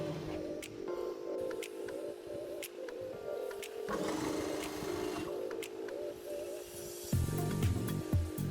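A sewing machine stitches the side of a kurti with a soft, continuous mechanical whir and rattle at moderate distance, rising slightly mid-way and ending with a louder clunk.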